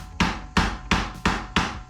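Five evenly spaced, heavy metallic strikes of a regular hammer on a part of a WW2 Jeep, close and loud with short ringing decay, in a steady rhythm.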